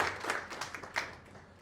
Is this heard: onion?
no